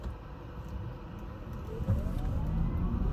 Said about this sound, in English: all you hear is just a little bit of motor whine